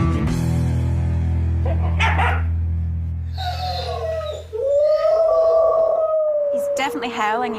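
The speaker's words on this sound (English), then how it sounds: "Definitely howling, he's barking" A dog with separation anxiety howls in long, drawn-out wails mixed with barks, loud and close, with strong sustained harmonic tones in the first half and a rising then steady howl later.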